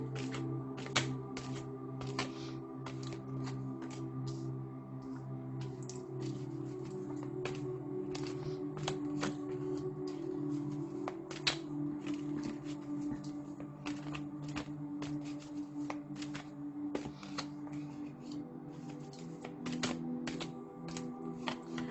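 Tarot cards being drawn from a deck make repeated crisp snaps and flicks close by at irregular intervals, over soft, steady background music.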